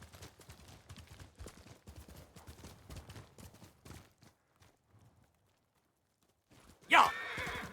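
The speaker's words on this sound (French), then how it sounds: "Tu es un bon cheval, Kage." A horse in Ghost of Tsushima clip-clops along at a steady pace, the hoofbeats fading into near silence before a loud, sudden neigh bursts out close by near the end.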